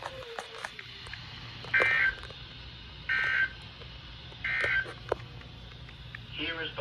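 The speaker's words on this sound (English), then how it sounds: "This concludes the weekly test of the warning alarm system." Weekly warning alarm system test on a weather radio broadcast, three short loud data-burst tones in a steady pattern at regular intervals over faint static, ending with a fourth rasping burst.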